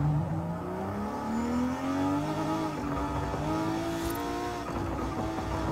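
A V12 engine in Forza Horizon 5 revs and accelerates steadily through a corner, its pitch rising and falling, loud and continuous with no talking.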